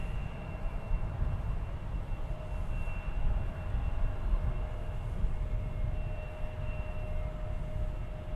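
Steady broadband roar of an American Airlines jet at DFW Airport, a continuous engine rumble with a faint tonal whine that holds fairly constant throughout, without speech.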